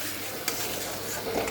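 Jackfruit curry masala being fried and stirred in a pan, giving a close, steady sizzle with a brief scrape of the spoon partway through.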